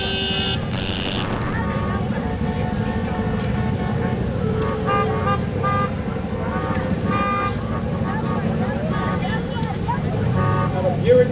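Classic car-club cars, among them Corvettes, Sunbeams, Mercedes, Porsches and Mustangs, roll past in the 2023 George Washington Birthday Parade in Alexandria, Virginia. Horns toot repeatedly over a continuous traffic rumble and crowd noise, and a voice is heard in the mix.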